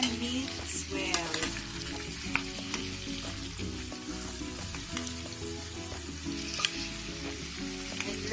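A prawn curry mixture is stirred in a pan, giving a continuous soft sizzle with occasional scraping and knocks from the spoon, fairly quiet and without voices.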